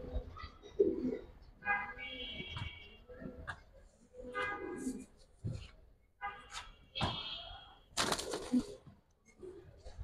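Giribaz high-flyer pigeons coo in short, separated phrases close by, with occasional wing or cage knocks and faint voices in the background.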